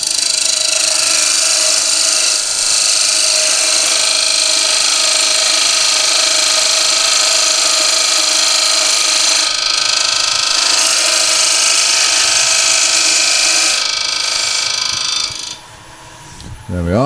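A wood lathe turns a 25mm tenon on a wooden table lamp, giving a loud, sustained whirring hum with a bright scraping tone that holds steady, then briefly dips and changes near the end.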